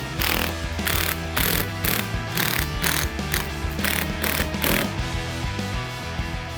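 A ratchet clicks in quick rhythmic bursts as bolts are threaded onto ball stud brackets for a Rock Slide Engineering truck bed rack, loud and close, with short pauses between strokes and no speech.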